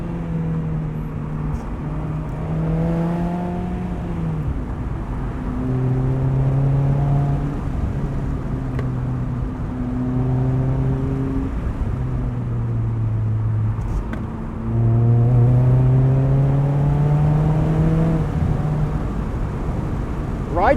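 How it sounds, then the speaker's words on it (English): A 2018 Mazda MX-5 Miata with an aftermarket exhaust, running on E85, drones and revs up and down through repeated gear changes while driving canyon roads, loud and close from inside the cabin. "I just love the noise these things make with an exhaust."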